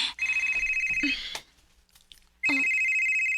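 Mobile phone ringing with an incoming call, a loud electronic tone sounding in two close bursts separated by a brief quiet gap, with a short voice in between.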